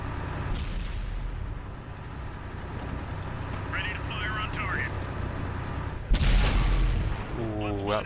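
A tank cannon fires in World of Tanks on Xbox, a sudden loud boom near the end over steady engine rumble and battle noise, with a voice talking across the clip.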